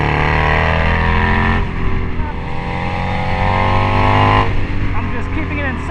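A Harley-Davidson Screamin' Eagle factory Road Glide bagger race bike held in second gear through a track infield, its loud engine droning and revving close up while a rider talks over it.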